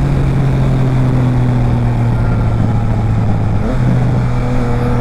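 A Triumph Trident 660 motorcycle fitted with a Zard exhaust and quickshifter roars loud and steady at high revs, with a continuous droning engine note that dips briefly partway through.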